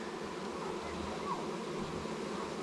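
Bees buzz around a hive box in a steady, faint, close drone that holds without pause for a few seconds.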